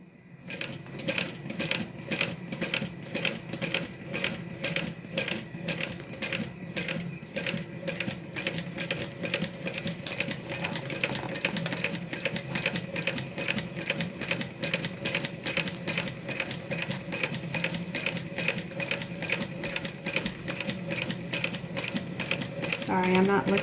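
A sewing machine stitches a wristlet slowly, a steady stream of rapid, evenly spaced needle clicks at close range running the whole time, with a person talking now and then over it.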